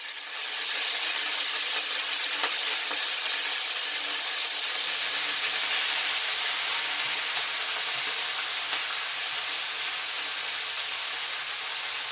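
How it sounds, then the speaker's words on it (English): Lacinato kale greens sautéing in a hot skillet give a loud, steady hissing sizzle that holds evenly throughout, close up with no talking. "we're going to go ahead and just add a couple of greens in here and get it to sauteing"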